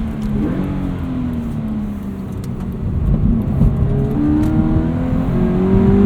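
A 2018 Subaru BRZ tS accelerates onto a highway entrance ramp on wet roads, its engine note climbing steadily in pitch and loudness from inside the cabin, with a constant road and tire hiss underneath.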